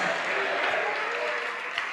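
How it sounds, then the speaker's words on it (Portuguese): A church congregation claps in a dense, steady wash of applause that lasts the whole two seconds, with a voice speaking faintly underneath. "Vamos aplaudir mais, vamos aplaudir mais"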